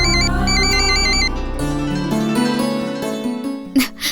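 Mobile phone ringtone playing loud and close, an electronic beeping melody that shifts into a brighter tune, with a short clatter near the end.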